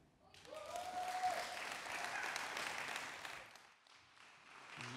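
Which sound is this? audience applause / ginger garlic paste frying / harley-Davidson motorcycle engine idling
audience applause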